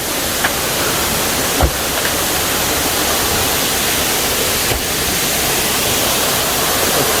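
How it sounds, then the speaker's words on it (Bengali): Jingsiam Saitar waterfall in Bandarban roars as a steady, loud broadband rush of falling water heard up close, with a couple of brief knocks and no voices. "আমরা এখন আছি জিংসিয়াম সাইতার ঝর্ণার নিচে"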